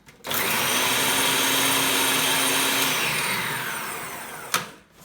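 A countertop blender whizzes a can of chickpeas with garlic for hummus in a short, loud burst: it starts abruptly, whirs steadily with a harsh grinding roar, then cuts off and briefly winds down.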